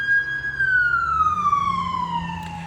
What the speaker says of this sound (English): as the sirens are going by